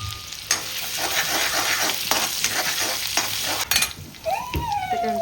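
Ginger garlic paste frying in a home kitchen pan, a dense steady sizzle with stirring scrapes, a sharp clatter near the end and a rising whistle-like tone at the close.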